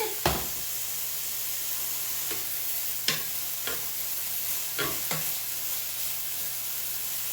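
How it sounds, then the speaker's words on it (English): Biscuit gravy sizzles steadily in a pan on the stove, a close continuous frying hiss broken by a few soft clicks of a utensil, with no talking. "Just listen to that sizzle for a second."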